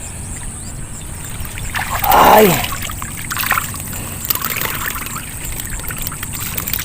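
Strong water rushes steadily through a rice paddy canal, a continuous close wash of flow, with a brief voiced exclamation partway through.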